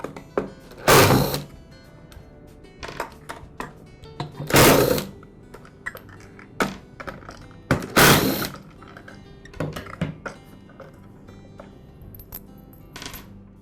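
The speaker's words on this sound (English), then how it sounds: "I'll go ahead and remove these 3 tabs that hold the starter pulley in place." Plastic tabs holding the starter pulley of a Ryobi handheld gas blower are pried loose, giving close, irregular clicks and snaps with several louder scraping bursts and small knocks in between.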